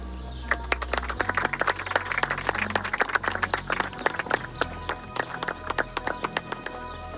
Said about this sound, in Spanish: Este aplauso es para ti, Toto.